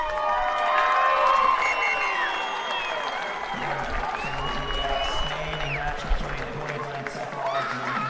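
Home supporters cheer and applaud at a women's under-19 rugby league nationals match between Queensland Sapphires and NSWRL City, a sustained loud crowd roar with shouts rising and falling throughout, commentary voices talking over it.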